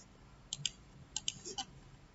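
Ctrl C pressed on a computer keyboard: a few faint, sharp key clicks, mostly in quick pairs, spread over about two seconds with no talking.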